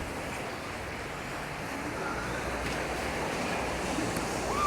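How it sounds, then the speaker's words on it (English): Surf washes onto the beach at Playa Blanca, Lanzarote, heard while walking along the shore as a steady broadband roar with some wind noise, growing slightly louder. "next to the beach now, walking along."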